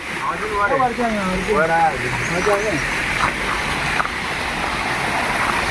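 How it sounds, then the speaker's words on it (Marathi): A small waterfall in a jungle makes a steady, broad rush of falling water throughout, with someone talking over it at first. "हा इथं छोटासा धबधबा छोटा आहे"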